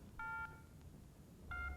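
Two short bursts of push-button telephone dialing tones, separated by a quiet pause, heard fairly clearly against low background hiss with no talk.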